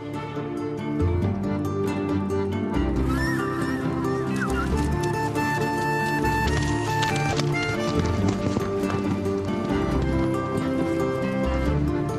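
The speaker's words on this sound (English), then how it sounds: "El Loco and the other horses will take our expedition part of the way up the mountain" Horses carrying an expedition up a mountain valley in South America, hooves clip-clopping in a steady walking rhythm, close and clear under a continuous bed of music.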